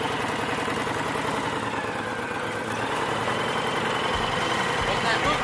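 A tractor engine idles with a steady, rumbling drone at moderate distance, holding an even throb throughout while voices talk over it.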